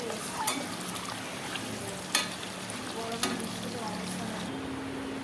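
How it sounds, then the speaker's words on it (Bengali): Eggs frying in oil in a pot for chicken biryani give a steady, fairly quiet sizzle with a few sharp clicks of a utensil against the pan. "এবার এই তেলটার মধ্যে আমি ডিমগুলো একটু ভেজে নেব"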